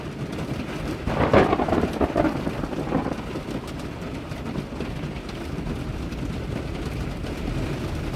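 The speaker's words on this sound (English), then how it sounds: "all of a sudden we had this massive crash of thunder" Thunder crashes during a thunderstorm while camping in a van, a loud rumbling burst early on that rolls and fades into steady rain noise.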